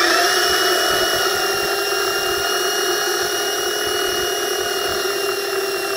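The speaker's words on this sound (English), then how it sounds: "Going to hold the motor a little bit. It's going to jerk on me when it fires up." Electric motor running on 24 volts, a loud steady whine with high tonal hum and a slight pitch rise at the start, close and continuous for the whole stretch.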